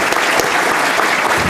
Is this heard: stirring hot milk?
no